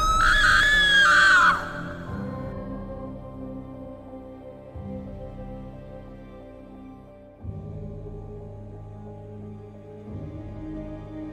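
A person lets out a loud, sustained scream for about a second and a half in a horror skit themed on Ghostface, followed by a quieter low rumbling backdrop that persists to the end.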